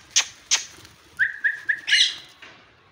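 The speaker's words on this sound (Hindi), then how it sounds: "बहुत ही प्यारा पैरट है माशाल्लाह" A trained pet parrot gives a few sharp calls followed by a short series of clear whistled notes and a louder squawk, fairly faint against a quiet background with no talk.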